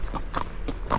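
Shod Kentucky Mountain Horse walking over rocks, four crisp hard clip-clop hoof strikes in an even walking rhythm, close and clear against a low background hum.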